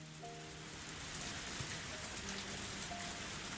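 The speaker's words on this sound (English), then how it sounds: "But I didn't think it would rain so hard." Heavy rain pours steadily in the Higurashi When They Cry visual novel, a dense, even hiss with faint soft background tones beneath it, with no voices.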